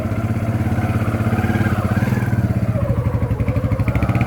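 A Kawasaki Barako 2 motorcycle with carburetor trouble idles close by, its engine giving a steady, rapid, loud putter with a slightly uneven rhythm.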